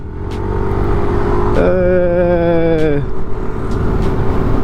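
A moped, a Vespa or Aerox racing on the road from Trichy to Tanjore, drones steadily at high speed under constant wind rush, with a rising tonal whine that swells in the middle and then drops away.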